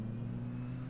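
A Formula Vauxhall race car on a wet track at Mondello Park, heard as a steady, loud, droning engine note held through a brief pass, with no talk over it.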